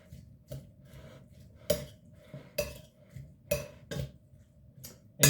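Chopped ceviche being mixed in a bowl with a utensil, a series of clinks and scrapes against the bowl at irregular intervals over quiet background, no voices.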